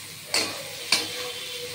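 Capsicum, vegetables and soybeans fry in a pan for vegetable pasta, seasoned with Maggi masala: a low steady sizzle broken by two brief, sharp stirring scrapes close by.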